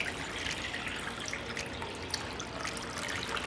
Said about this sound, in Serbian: u činiju ću sipati vodu